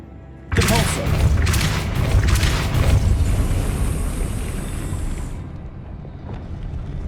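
A Depulso spell blast in Hogwarts Legacy fires as a sudden loud booming burst, then rolls on into a sustained roaring whoosh that holds for several seconds before fading away.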